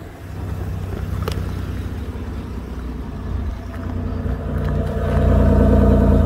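A 2008 Chevrolet police interceptor with dual exhaust pipes running, its engine a steady low rumble close by that swells louder toward the end.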